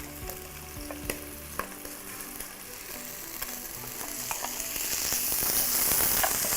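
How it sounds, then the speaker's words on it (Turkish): Rice goes into a pan of deeply caramelized onions, frying with a steady sizzle that grows louder toward the end, with scattered stirring clicks and scrapes over a low background hum. "Bu arada e, soğanları böyle iyicene karamelize ettim. Tam bir karamel rengine geldi. Pirinçleri atıyorum içine."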